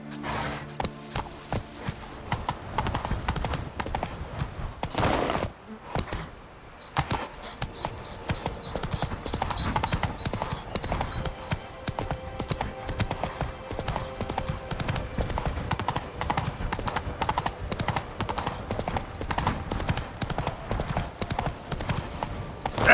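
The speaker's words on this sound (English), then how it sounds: "Come on, Roach" Horse hooves clip-clopping in The Witcher 3 video game, a rapid and steady galloping rhythm that continues throughout, with a brief pause partway and occasional faint game sounds.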